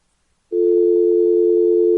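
Telephone busy tone after a dropped call line, starting abruptly after a short silence and holding as one loud, steady continuous pitch with no talk.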